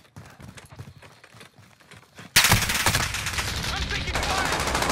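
Rapid bursts of automatic gunfire in Call of Duty: Modern Warfare, starting abruptly after a stretch of quieter footsteps and shots, then a loud, dense barrage with overlapping shots close by.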